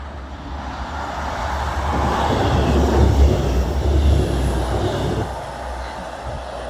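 A South Western Railway train running from Reading to Salisbury, heard as a steady low rumble of wheels and engine that grows louder mid-pass, then eases off slightly, with no voices.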